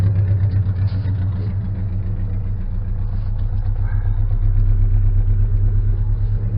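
A Toyota 86 engine idles steadily and close by, a continuous low rumble with an even pulse and no pauses throughout.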